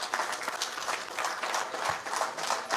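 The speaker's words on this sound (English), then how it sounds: "So you will have to give a big standing applause to Mother Dairy." A crowd gives a standing ovation at a company foundation day celebration, with dense, lively clapping that pulses continuously throughout and no voices over it.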